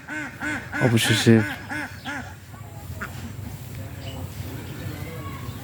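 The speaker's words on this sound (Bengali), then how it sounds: "এই হাঁসটায় ডিমটা পাড়ার জন্য অনেক চেষ্টা করলো" A domestic duck by a pond quacks in a loud rhythmic series of calls right after laying an egg, then falls quiet beneath soft background noise and a brief spoken word.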